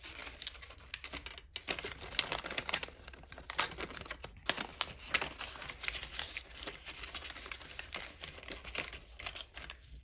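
Stiff paper crinkles and rustles as a half-folded origami fighter jet is opened back out, close and continuous with dense crackling bursts and brief pauses throughout.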